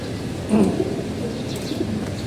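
Pigeons cooing softly nearby, a brief low coo rising above steady background noise.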